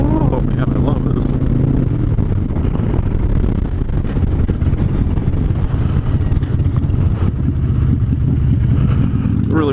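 A motorcycle cruises steadily with a constant low engine drone buried under heavy, continuous wind rush across the helmet microphone, with no pauses or gear changes evident.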